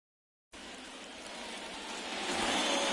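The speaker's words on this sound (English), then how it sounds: "the field's not going to be able to hold up if the rain gets any worse than this" Rain falls on the field at Fenway in an MLB baseball video game, a steady hissing wash that starts abruptly after half a second and slowly swells louder.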